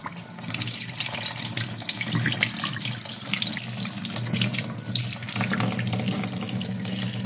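Tap water runs steadily into a sink while elderflowers are rinsed of pollen and dust before soaking, making a continuous splashing rush with no talking.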